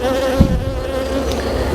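Honeybees buzz steadily around a brood frame lifted from a UK hive, a close, continuous drone with a brief louder bump near the start.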